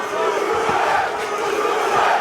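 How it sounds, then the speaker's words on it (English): Sold-out live crowd at a bare-knuckle fight in a South Florida arena chanting Uruguay, a dense, loud, sustained roar of many voices with rhythmic swells throughout. "Chant of Uruguay from this sold-out hard-rock live crowd in South Florida in favor of the Uruguayan Gaston Reyno"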